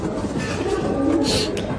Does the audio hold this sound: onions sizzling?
no